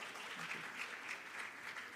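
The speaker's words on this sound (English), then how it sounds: "Please, a round of applause," Audience applause at a plenary session on gender and inclusion, a soft, even patter of clapping heard at a distance and fairly quiet throughout.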